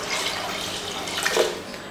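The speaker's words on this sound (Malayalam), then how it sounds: "ഞാൻ ചൂടുവെള്ളമാണ് ചേർക്കുന്നത് കേട്ടോ." Hot water is poured into a pressure cooker holding rice, giving a continuous hissing, splashing stream for about two seconds, close and clear with no voices.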